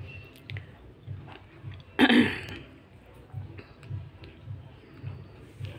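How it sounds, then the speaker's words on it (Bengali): Puffed rice (muri) being eaten by hand, with soft, steady crunching chews repeating close by and one sharper burst of noise partway through. "যে মুড়ি খাচ্ছি আমি"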